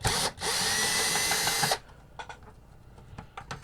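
A power screwdriver whirs loudly for about a second and a half while backing a screw out of a Nintendo NES 72-pin connector, followed by quiet handling clicks and rattles of small parts.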